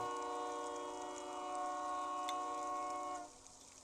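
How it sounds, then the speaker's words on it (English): Train horn picked up by a rail fanning camera, one long sustained chord-like blast holding steady for about three seconds then cutting off, fairly distant, followed by a brief sharp knock. "I don't think people want to be hearing a train horn."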